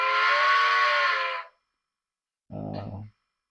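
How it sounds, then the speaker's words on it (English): Steam whistle from a Soundtraxx decoder in an HO scale Rivarossi Union Pacific Big Boy 4-8-8-4 model: a loud, sustained chord-like blast of about one and a half seconds, then silence and a short, lower, rougher toot. "Here's the whistle."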